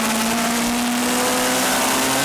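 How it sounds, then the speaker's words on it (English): Super Mini race car, number 99, accelerating hard through the gears at Pukekohe, a loud continuous engine note rising in pitch with steady high revs and no talk over it. "listening to the engine note as he gets up to third gear"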